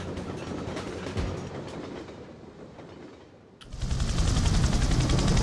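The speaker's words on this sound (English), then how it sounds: "I've made it to the engine, but this train isn't gonna stop in time!" Speeding train in the Syphon Filter 2 video game, a loud rumbling rush with rhythmic clatter that thins out briefly, then surges back as a dense, roaring wall of rail noise.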